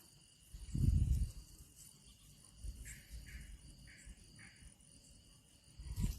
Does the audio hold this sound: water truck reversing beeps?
no